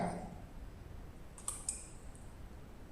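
A few light mouse clicks and a key press on a computer while working in Photoshop, brief sharp taps over quiet room tone near the middle of the moment.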